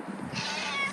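A pet cat gives a single short meow, close and moderately loud, with no talking over it.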